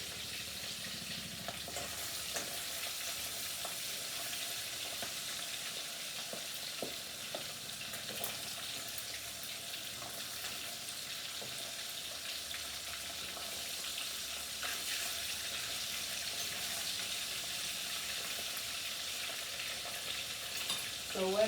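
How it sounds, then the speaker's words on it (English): Small fish frying in hot oil give a steady, moderately quiet sizzle and crackle throughout, with occasional light stirring or clinking in a kitchen. "So when I'm frying those"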